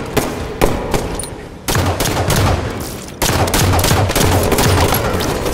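Rapid gunfire from Halo 5 multiplayer, loud and dense, with overlapping bursts and single sharp shots cracking back to back, nearly continuous for a few seconds with brief gaps.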